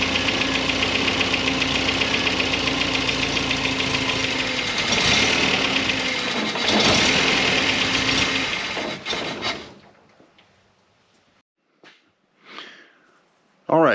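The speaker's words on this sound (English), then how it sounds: "that's actually idling better than when I got in the car" An MGB car engine with a fuel injection conversion idles steadily with a rough, knocking rumble for several seconds, then shuts off, leaving near silence broken by a few faint noises.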